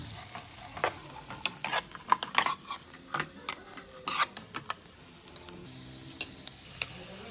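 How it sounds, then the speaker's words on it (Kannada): Green chillies fry in hot oil in a pan, with a soft continuous sizzle broken by frequent scraping and clinking stirring strokes at an irregular rhythm. The sounds are close and fairly quiet, with no talking. "ನೆಕ್ಸ್ಟು ಹಸಿಮೆಣಸಿನ್ಕಾಯಿ ಆ್ಯಡ್ ಮಾಡ್ಕೊತಾ ಇದ್ದೀನಿ"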